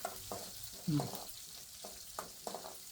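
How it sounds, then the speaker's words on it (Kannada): Peanut greens and pigeon peas frying with spices in a pan: a soft continuous sizzle broken by a few stirring scrapes and knocks, close and fairly quiet, with no talk. "ಇವಾಗ ಇದನ್ನ ಈ ತರ ಫ್ರೈ ಮಾಡ್ಕೋಬೇಕು"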